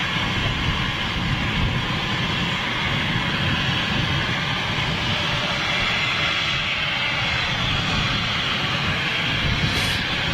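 Jet aircraft passing overhead near Heathrow, a steady broadband engine roar that holds loud and even throughout with no talking.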